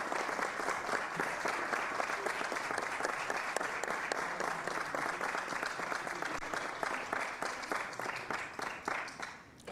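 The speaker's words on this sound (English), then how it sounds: "And the applause." Sustained applause from a crowd in a congressional hearing room, dense steady clapping that stays loud throughout and thins slightly toward the end.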